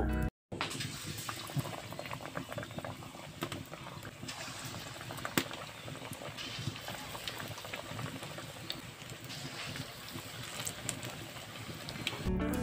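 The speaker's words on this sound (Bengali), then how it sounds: "এবার আমি এই গরম তেলের মধ্যে একটা একটা করে বেগুনি দিয়ে ভেজে নিব" Eggplant fritters (beguni) deep frying in hot oil, a dense bubbling crackle that runs steadily throughout, close and fairly quiet, with a brief dropout near the start and no voices.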